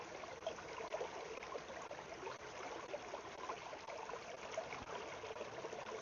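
A bleach and hydrogen peroxide tablet dissolving in water, giving a steady, faint hiss of fine bubbling and fizzing with no talk.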